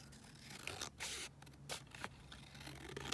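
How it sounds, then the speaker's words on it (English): Scissors cut a border off a paper pocket, making a few quiet, close snips and slicing scrapes through paper at irregular intervals, with no talking. "So, I'm just going to cut this border off."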